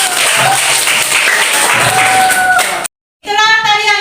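Children clapping together in an elementary classroom during a lesson, a brisk, loud burst of claps that cuts off abruptly, followed by a voice talking.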